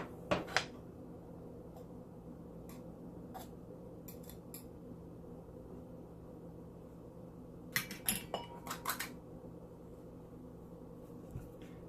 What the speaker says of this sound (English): now we're gonna place in a serving dish